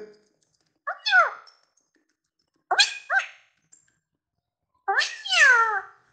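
A performer imitates a cat drinking milk with three short bursts of cat-like mewing and yowling vocal sounds. They are close and clear, with silences between them.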